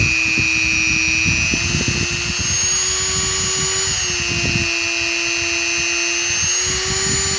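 A power tool set to speed 8 cuts through foam for an armor build, guided along a level, producing a loud, continuous high-pitched whine with a steady motor drone and a faint rattle running underneath.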